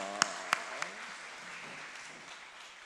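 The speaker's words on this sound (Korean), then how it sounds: "축복의 박수 한번 하겠습니다" A church congregation in Korea gives a round of applause as a blessing for the teachers during a Friday night gospel service; a few sharp claps open, then a soft, even patter of clapping continues at moderate distance.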